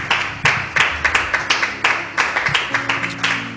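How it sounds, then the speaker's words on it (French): Rhythmic clapping from a congregation at a church service, steady beats roughly every quarter second to half second over a low hum of voices and instruments, fairly close and sustained. "On applaudit au nom de Jésus"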